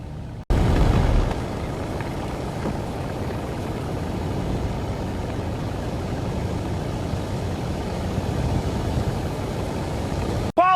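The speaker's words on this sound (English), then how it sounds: "Engine straining, but we're gripping well." A military tank's engine straining as it climbs a mound, a loud, continuous low rumble that holds steady for about ten seconds with no voices over it.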